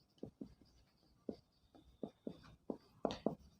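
Pen scratching across paper during a Hindi physics lesson on electric circuits, in short separate bursts of strokes that get denser near the end, close and fairly loud with no talking.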